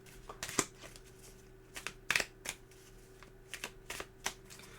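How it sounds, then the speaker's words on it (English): Playing cards for Card Z, a zombie survival card game, are shuffled by hand in a quiet room: several crisp riffling bursts spread through the clip, each fluttering briefly before falling silent, close and clear with no talking. "I'm just going to give these a shuffle."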